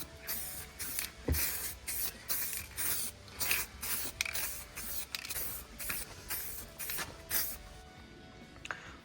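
Aerosol spray can hissing paint onto a wrecked Toyota's bonnet in repeated close bursts of roughly half a second, separated by brief pauses, with no talking.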